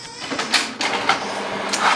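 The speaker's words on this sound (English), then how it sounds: "Sending it to the printer." An HP 4052a inkjet printer starting a print job, giving mechanical whirs and clicks with repeated short carriage or feed movements, fairly close and steady for a couple of seconds.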